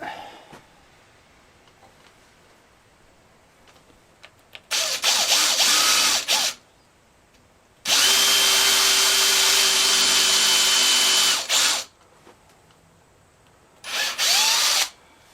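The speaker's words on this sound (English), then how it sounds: "I've marked my first hole and I'm ready to drill" A power drill bores into an old wooden butcher's block in three loud bursts, a short one, a long sustained run, then another short one, with quiet pauses between.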